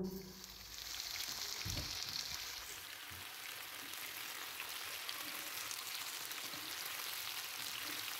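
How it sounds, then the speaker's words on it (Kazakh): Steady, dense crackling sizzle of mushrooms frying in hot oil, continuous and close, with a few low clunks near the start. "қызып тұрған майда қуырып аламыз"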